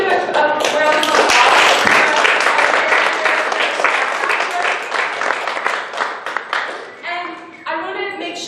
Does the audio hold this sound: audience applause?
yes